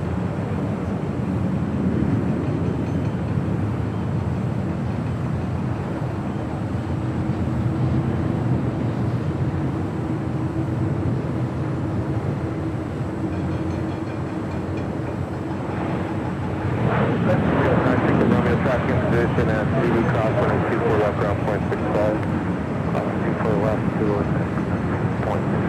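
Alaska SkyWest jet departing Los Angeles airport, its steady engine roar building louder partway through, heard over wind noise with a voice talking underneath.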